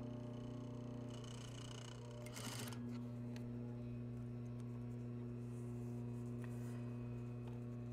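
A sewing machine runs continuously while stitching a basic seam in an apparel construction lesson, a steady mechanical hum with a brief rustling burst of fabric handling partway through.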